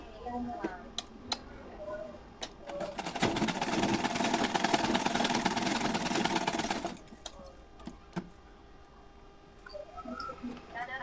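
A sewing machine stitches a size 32 Bombay-cut blouse in one continuous run of rapid mechanical whirring lasting several seconds, with scattered light clicks and handling noises before and after.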